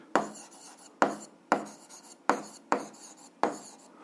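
A pen writes on paper in six crisp, evenly spaced strokes, each a sharp scratch fading quickly, close and quiet with no voice.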